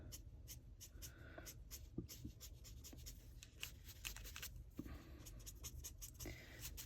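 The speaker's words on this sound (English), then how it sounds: "I did use my Staedtler pigment liner, so this is a supposedly waterproof" Faint scratching strokes of a Staedtler pigment fine liner drawing on paper, short irregular marks, quiet and close, with no talk.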